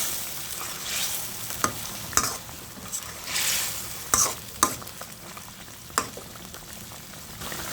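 A spoon stirs a sizzling pan of shol fish bhuna curry with cumin powder and coriander leaves, giving irregular scraping strokes and clatters over a steady frying hiss, close up with no voices.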